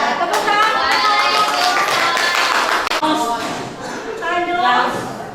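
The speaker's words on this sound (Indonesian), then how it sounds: "Tepuk tangan." Classroom students clapping after a group presentation in a school science lesson, a sustained burst of hand claps mixed with chatter and voices, fairly close and loud.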